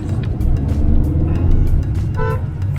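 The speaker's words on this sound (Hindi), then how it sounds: "दिन का टाइम है, खूब सारा ट्रैफिक है सड़क पर, मार्केट लगा हुआ है।" Dense daytime road traffic rumbles through a small town market on a road trip route, with engines droning steadily and a short car horn toot near the end.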